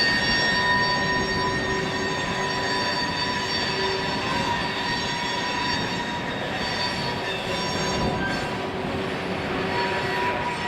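A KB&S freight train moves hopper cars along an elevator track, with a steady rolling rumble of railcars and wheels squealing in sustained high tones throughout, loud and close with no voices.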